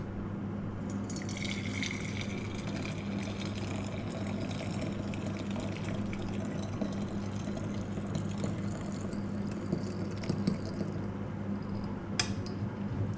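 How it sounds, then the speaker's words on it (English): Hot tea poured into a flask makes a steady, continuous trickling and splashing that holds level throughout, close by, with a faint clink near the end. "I'm just going to pour it here in my flask."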